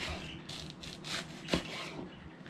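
A knife cuts peeled vegetables into half-inch slices on a board, a series of about five rasping strokes in an irregular rhythm with a sharper knock near the end, close and quiet.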